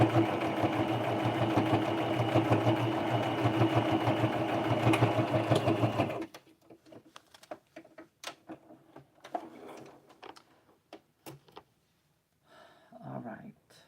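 A sewing machine stitches fabric for a homemade doll, running in a steady, loud mechanical whir for several seconds before stopping, followed by quieter handling clicks and a person talking.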